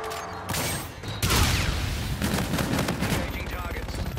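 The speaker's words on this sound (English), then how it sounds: "Inbound for gun run." Aircraft gun run in a video game: a dense, sustained burst of rapid strafing fire roars in after a short lead-in, rattling continuously and loudly with battle noise and radio-style voices mixed in.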